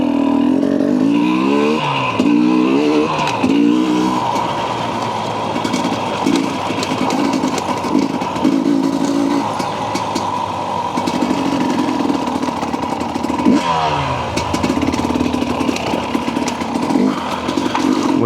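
Several TPI two-stroke dirt bike engines revving and pulling away off road, loud and close with rising and falling pitch sweeps as throttles open, a steady buzzing engine drone throughout.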